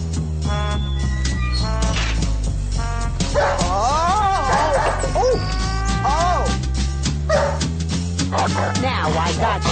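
A dog barks, yips and whimpers in a busy, loud mix over a steady music-like bed, with rising whines in the middle; a voice may be present underneath.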